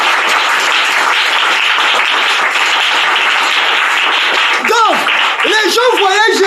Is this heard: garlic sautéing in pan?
no